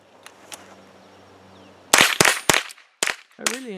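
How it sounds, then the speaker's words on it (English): Several sharp cracks from a Chiappa M4-22 .22 long rifle upper fired in quick succession after a quiet lead-in, loud and close, with a brief voice at the end. "I really enjoy shooting this 22 long rifle upper by Chiappa."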